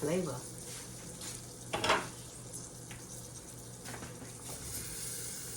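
Peppers and onions hiss and sizzle as they fry in a pan for a pepper steak, a steady broad crackle with a brief louder burst from stirring near the middle.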